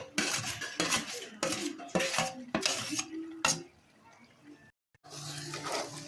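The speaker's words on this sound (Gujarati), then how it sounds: "હવે બધું હરખી મિક્સ કરી નાખીએ" A utensil scrapes and clanks against a pan in repeated strokes while stirring roasted brinjal bharta (ringan no olo), a short pause, then more clattering; a voice talks alongside the stirring.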